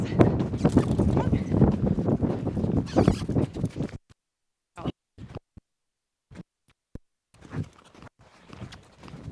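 A horse lopes around an arena, its hoofbeats drumming steadily at first under a voice, then only scattered thuds and quieter footfalls follow after a sudden drop in sound.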